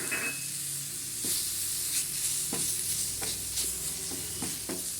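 Chopped tomato sizzles in a hot pan while being stirred, a continuous close frying hiss punctuated by regular scraping strokes of the spoon.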